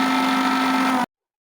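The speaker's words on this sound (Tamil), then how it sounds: "இந்த மிக்ஸி ஜாரில் போட்டு அரைச்சி எடுத்துகிட்டு வந்துட்டேன்" A mixer grinder grinding thuthuvalai chutney ingredients whirs steadily at high speed with a constant motor hum, then shuts off abruptly, leaving silence.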